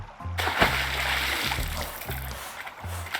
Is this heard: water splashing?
yes